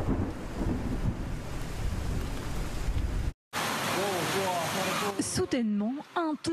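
A torrent of water surges into a flooded Paris metro station in an August storm, a loud broadband rush for a few seconds, then continuing under excited voices.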